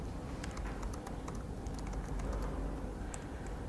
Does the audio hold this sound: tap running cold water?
no